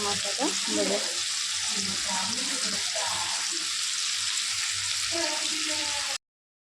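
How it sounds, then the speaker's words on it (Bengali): Potatoes frying in oil with salt and turmeric, a dense steady sizzle filling the whole span, close and fairly loud, with a voice talking intermittently over it. "নুন হলুদ দিয়ে আলুটাকে ভাজলাম ভাজছে"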